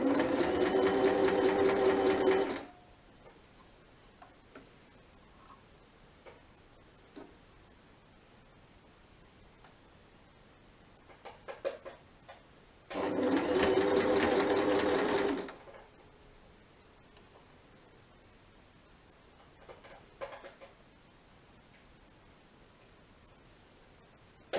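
A sewing machine hems the sleeve of a jersey top with a twin needle in two close, steady bursts of rapid stitching a few seconds each, with quiet handling clicks and fabric rustle in the pauses between.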